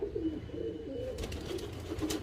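Vaccinated pigeons in a loft coo softly, a low repeated murmuring from several birds close by, steady throughout with no talking.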